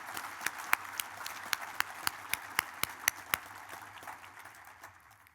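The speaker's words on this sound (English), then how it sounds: "give them a round of applause for the extra service they have given" Sparse, scattered hand claps from an audience at an annual convention business session, applauding city officials; a dozen distinct claps at moderate distance that thin out and fade, with no talking.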